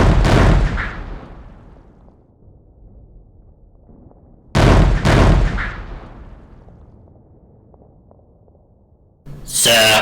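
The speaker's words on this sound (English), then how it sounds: "Sir, artillery is reporting limited effect on the preliminary bombardment." Artillery bombardment sound effects in a stop motion tabletop battle between Mordian Ironguard and World Eaters, with heavy booming blasts arriving in spaced volleys, each rumbling away into quiet before the next.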